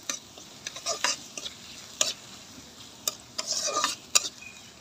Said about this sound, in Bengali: তো পেঁয়াজটা একটু বাদামি কালার করে নিব। তো পেঁয়াজটা আমার হালকা বাদামি কালার হয়ে আসছে।